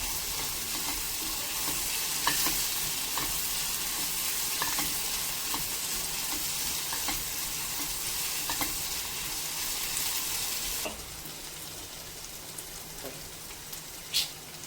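Tempering of cumin, tomato and coriander leaves for chana masala sizzles and crackles steadily in a frying pan, close and continuous, then drops to a gentler fry near the end, with no talk.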